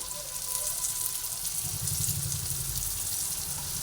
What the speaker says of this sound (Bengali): একসঙ্গে সব ভেজে নিচ্ছি এবারে আমি এর মধ্যে অল্প পরিমাণ নুন দেবো